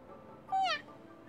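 A single short cat meow from the mobile game Cung Đình Kế, clear and close, rising then falling, over a quiet game background.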